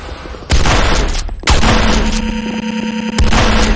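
Renegade (Command & Conquer) battle at the Hand of Nod: loud bursts of gunfire and booming explosions in three abrupt onsets, dense and close with rattling rapid shots between blasts.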